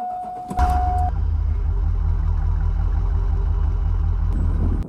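A GMC truck engine catches within a second while boosted by an AUDEW jump starter, then settles into a loud, steady, rumbling idle close by.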